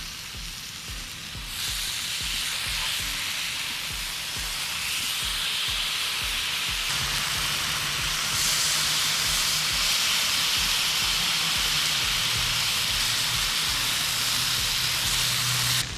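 Bacon-wrapped grass-fed filets sizzle loudly on a Blackstone griddle, a dense steady crackle and hiss that swells after a brief quieter start and holds strong to the end.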